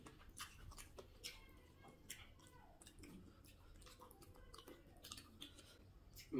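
Slow chewing of spicy koi fish curry with rice, heard up close as soft, quiet wet mouth sounds and small bites in an otherwise hushed setting.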